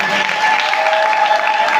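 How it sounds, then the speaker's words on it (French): Dense, steady clapping from an audience at the investiture ceremony of the national bureau of the Union of Women Entrepreneurs in Côte d'Ivoire, loud and unbroken throughout, with a faint sustained tone running beneath it. "Acclamez fortement."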